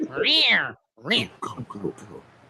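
House cat meowing loudly nearby, one long drawn-out meow followed by several shorter chirping vocalizations, indoors during a conversation.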